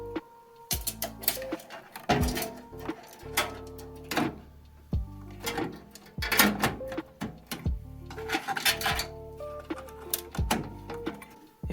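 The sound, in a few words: screws driven in to mount PC motherboard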